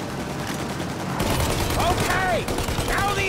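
Sustained gunfire aimed at an aircraft's engines in Mafia Definitive Edition, rapid shots growing louder midway, with shouted voices over the clatter.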